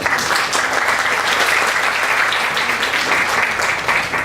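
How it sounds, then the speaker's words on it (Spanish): A lecture audience gives a loud, sustained round of applause welcoming a speaker, many hands clapping close and steadily throughout without letting up. "para quien pido un fuerte aplauso de bienvenida"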